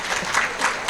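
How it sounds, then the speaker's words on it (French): Applause from an audience at a French-language panel discussion, a brief dense burst of clapping heard mid-flow, fairly loud and close. "Est-ce qu'on peut l'applaudir?"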